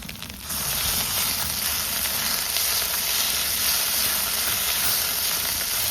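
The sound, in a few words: ginger garlic paste being sautéed in a pan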